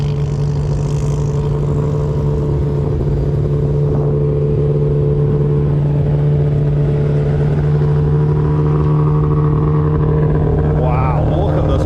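Touring car engine droning steadily at a motorsport festival, a constant mid-pitched hum with a brief rising rev near the end, loud and close throughout with voices over it.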